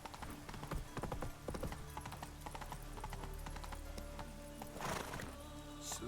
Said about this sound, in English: You moderately okay horse.